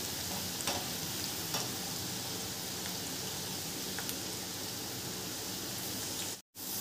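Onions frying in a pan for chicken biryani and rassa, a dense, even sizzle close by holding steady throughout, with a brief drop out near the end.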